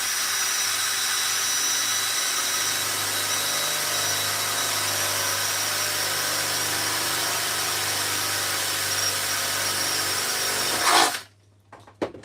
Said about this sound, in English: Gonna drill a hole.